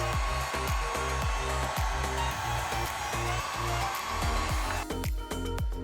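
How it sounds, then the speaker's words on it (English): A heat gun blowing hot air over heat shrink tubing slipped onto a wire: a steady loud blower whoosh with a droning motor tone, overlaid by a regular series of clicking pulses throughout. "I slipped the heat shrink over the exposed area and heated it up with a heat gun."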